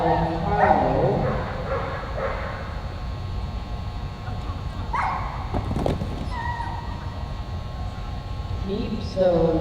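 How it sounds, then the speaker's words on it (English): Border collie running an agility course at an arena event, with barks and yips heard at a distance over steady crowd and hall ambience, a few short bursts scattered through the clip. "On course now we have Juliana Lund and her border collie Carlo"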